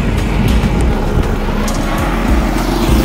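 A motor vehicle on a road near a cycle ride in Alipurduar, Dooars, producing a steady, loud engine and road rumble that stays close for the whole stretch, with no talk over it.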